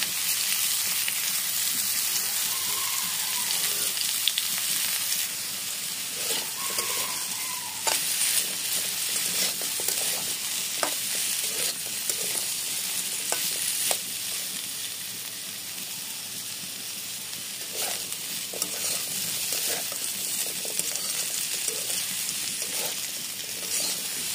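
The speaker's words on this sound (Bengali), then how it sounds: "ওই তেলের মধ্যে ভেজে নিতে হবে শালগমগুলোকে" Turnip pieces fry in hot oil in a wok after potatoes, a loud continuous sizzle with occasional stirring scrapes and crackles running throughout.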